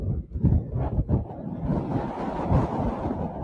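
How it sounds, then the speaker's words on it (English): A strong gust of wind buffets the microphone at Lincoln's Rock lookout, Wentworth Falls, roaring and rumbling unevenly for a few seconds with a hint of open water beneath. "That was a gust."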